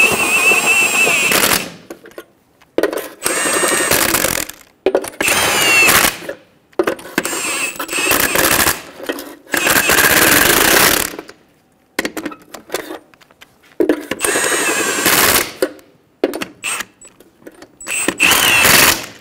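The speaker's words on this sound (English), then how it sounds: "snug down the lug nuts" An impact wrench runs in repeated loud rattling bursts, each a second or two long with short pauses between, snugging lug nuts on a Toyota Tacoma front wheel.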